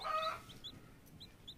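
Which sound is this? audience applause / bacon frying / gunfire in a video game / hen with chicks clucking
hen with chicks clucking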